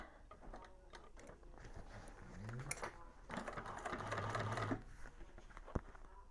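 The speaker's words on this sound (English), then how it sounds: "I will be hand cranking around that corner because I want it to be nice and perfect, and I have more control with that top stitch" A hand-cranked sewing machine top-stitches around the corner of a Scottie Convertible Bag, producing faint, quick rhythmic clicking and mechanical ticking that swells briefly midway.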